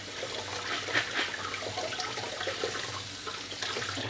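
Steady running water splashes and trickles into a basin while lentils are rinsed by hand, a continuous close wash with small sloshing variations.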